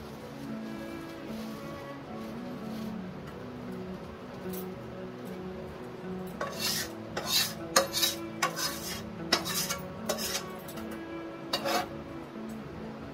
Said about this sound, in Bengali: এটা আমরা খুন্তির সাহায্যে এইভাবে প্রথমে পুরো মুড়িটার সাথে এটাকে মিশিয়ে দেবো ভালোভাবে